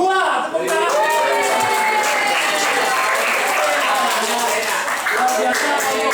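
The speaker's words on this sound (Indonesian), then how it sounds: "Tepuk tangan." A class gives a student group a round of applause in a school economics lesson, steady dense clapping filling the room for several seconds with some voices mixed in.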